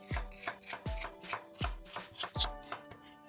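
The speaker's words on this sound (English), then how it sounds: "Or cut the celery diagonally." A knife chopping celery diagonally on a cutting board, seven or eight crisp, evenly spaced thuds close up with a short crunch on each cut, no voices.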